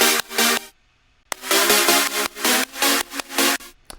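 Two synth chords layered with a white noise wash, played as rhythmic gated stabs with a short silent gap early on, bright hissy noise filling the top of each hit, no voices.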